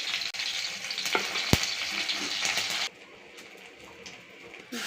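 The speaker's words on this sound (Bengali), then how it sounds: "সর্ষের তেলে ফোড়ন দিলাম" Spices temper in hot mustard oil in a pan, crackling and sizzling loudly for about three seconds with a sharp pop, then dropping to a softer, quieter sizzle before flaring up again at the end.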